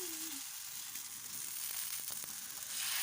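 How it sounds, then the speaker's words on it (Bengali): Rice flour and urad dal batter frying on a griddle, a soft, steady sizzle and hiss, fairly faint, with a few light scraping touches near the end. "এটাকে আমরা আস্তে আস্তে চাটুর মধ্যে দিয়ে একটা গোল আকারের শেপ নিয়ে সেটা ভেজে একটা একটা করে তুলে নেওয়া হচ্ছে"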